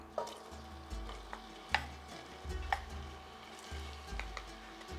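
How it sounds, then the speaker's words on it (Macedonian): Chopped onion frying in oil in a pot for a traditional Strumica-style stew with tarhana, a soft steady sizzle with a few clinks and stirring scrapes, fairly quiet and with no talk. "Го ставам кромидот да се испржи."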